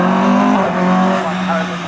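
A race car roars loudly past at a racing event, close and continuous with a shifting engine note, while a commentator talks over it.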